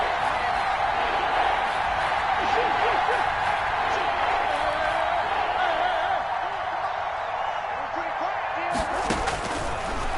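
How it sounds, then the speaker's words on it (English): A football stadium crowd roars steadily ahead of a big third down, a dense, loud wall of cheering with a commentator talking over it. "the crowd getting into it as we come up on a big third down"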